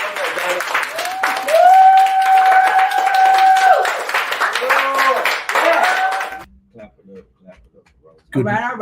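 An audience on a morning talk show claps for a singer, a wash of applause beneath sustained singing that then drops away abruptly, with a voice returning near the end.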